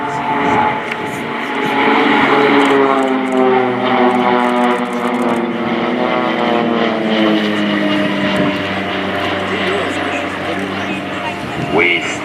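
Swiss Air Force Pilatus PC-7 propeller aircraft flying a team display at an air show, engine drone rising and falling in pitch as the planes pass, with an announcer talking over it.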